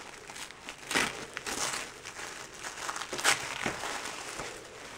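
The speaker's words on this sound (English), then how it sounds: "Comes really nicely packaged, wrapped in tissue paper." Tissue paper wrapping crinkles and rustles as a clothing package is unwrapped, with sharp crunchy bursts over a steady rustle, close and fairly quiet, no speech.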